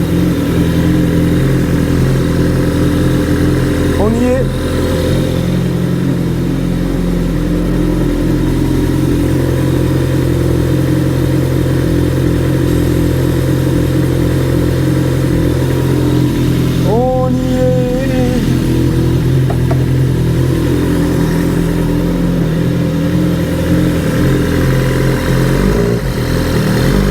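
Suzuki GSX-R 1000 K9 motorcycle running after an engine block swap, idling steadily and close by with a low, continuous drone and a few brief pitch shifts.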